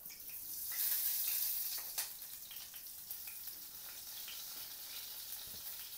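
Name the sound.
cumin seeds frying in hot oil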